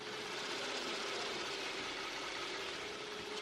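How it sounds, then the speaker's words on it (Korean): A Kia K9's 3.3 GDI engine idles smoothly and quietly up close with the hood open, a steady low hum with a faint whine and no revving. "바로 가까이서 엔진 사운드 담아드리도록 하겠습니다."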